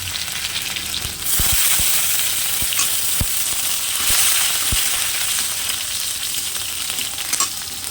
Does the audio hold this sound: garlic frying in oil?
yes